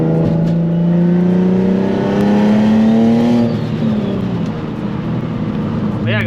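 A tuned 700 whp turbocharged Nissan 350Z engine revs loudly and close, a steady rising drone that climbs in pitch, then drops off into a lower rumble.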